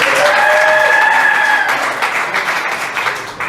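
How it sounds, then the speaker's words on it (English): Comedy club crowd applauding loudly and continuously, with a few sustained whoops and cheers riding over the clapping early on before the applause gradually tapers down. "Let's give him a round of applause."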